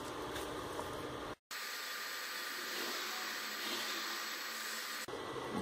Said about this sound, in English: I'm going to surface finish it on my new 12-inch wheel assembly